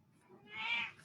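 A cat gives a single short, faint meow, rising and falling within about a second, heard alone in a quiet room.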